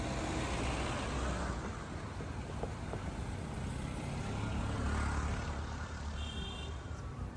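Traffic noise on a busy road in Peru, a continuous broad rumble of passing cars and motor vehicles, fairly close and steady with a slight swell midway.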